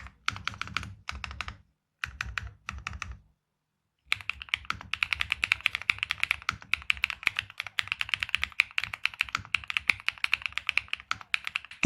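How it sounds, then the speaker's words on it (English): Rapid clacky typing on a mechanical keyboard, a few short bursts with pauses, then a long steady stream of keystrokes, close and crisp. "Let's listen to the keyboard's subtitle performance together."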